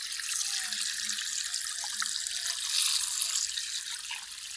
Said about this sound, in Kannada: ನೀರು ಬೀಳ್ತಾ ಐತಿ, ಹೆಂಗೆ ಬೀಳ್ತಾ ಐತಿ ಅಂತ.